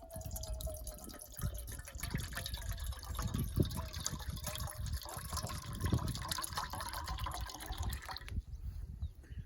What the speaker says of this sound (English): So just gonna put some water in my trusty old backpacking pot.